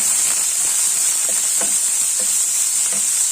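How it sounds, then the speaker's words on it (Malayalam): Sliced onions sauté in a pan for a beetroot and pepper stir-fry, a steady bright sizzle broken by a few soft scraping stirs, close and continuous with no talking. "ഇനി നമുക്ക് നമ്മുടെ സവാള അരിഞ്ഞു വെച്ചിട്ട് ഒന്ന് വാടി കിട്ടട്ടെ"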